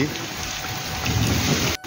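Steady rain falling in an Odia village, a dense continuous hiss of drops on surfaces and paths, close and even throughout.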